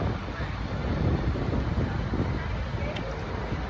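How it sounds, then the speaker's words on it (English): Outdoor wind buffets the microphone in a steady, loud low rumble that holds without pause, a broad roar filling the whole moment. "The wind is blowing."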